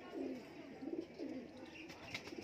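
Pigeons in a breeder's loft cooing softly, several low rolling coos repeating at a relaxed pace, faint and close, with a few small chirps near the end.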